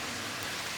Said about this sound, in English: you might be able to hear that water raging in the background